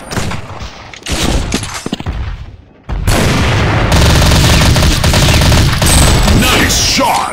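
Sniper fire and heavy gunfire erupt in the Blazing Sniper video game, with bursts and booms early, a brief lull, then a dense, loud, continuous barrage of shots and explosions.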